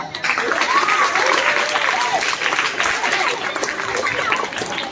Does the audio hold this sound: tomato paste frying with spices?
no